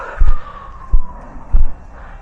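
A faint siren wails in the distance, its tone slowly falling, while close low thumps break in a few times, heard on a hillside among a herd of cows.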